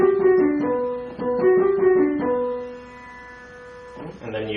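Piano plays the opening phrase of a song, a short repeated rhythmic figure of bright notes followed by a held chord that fades, close and clear with no voices.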